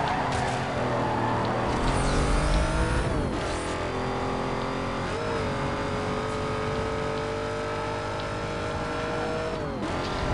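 A Ford GT racing in Need for Speed Most Wanted holds a loud, steady engine roar, with brief dips and gear-shift shifts in pitch and a faint tire squeal.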